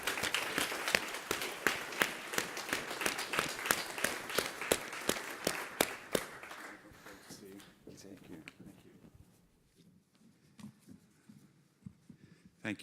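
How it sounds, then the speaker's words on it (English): A panel audience at a live business event bursts into loud, sustained applause with dense clapping for about six seconds, then fades to a few scattered claps and quiet room murmur. "let's give him a very big round of applause"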